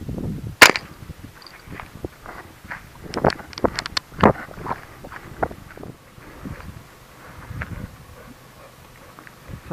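Two sharp, loud gunshots ring out outdoors during a rabbit hunt for feral pest control, one near the start and another about midway, with soft rustling and scattered small knocks around them.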